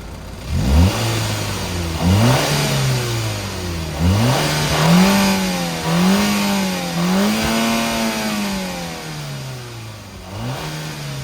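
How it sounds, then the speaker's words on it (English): A B7 Audi A4 Quattro automatic runs close by after a flex pipe replacement, its engine blipped in repeated revs that rise and fall every couple of seconds with a rough, tractor-like drone between them. "All it is just engine sounds. And these engines, they sound like tractors."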